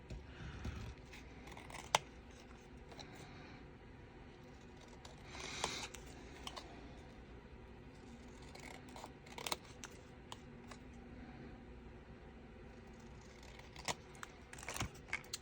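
Scissors trim a paper cutout for an altered playing card junk journal, with quiet, close snips scattered over a soft background, and no one speaking.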